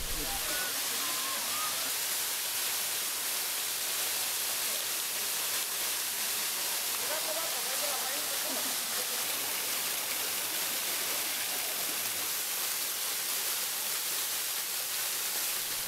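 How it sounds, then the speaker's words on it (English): Hot-spring waterfall of steaming hot water at Agua Caliente near Rio Dulce, a steady broadband rush of falling water that runs unbroken and fairly loud throughout, with faint voices in the background. "This waterfall is all hot water."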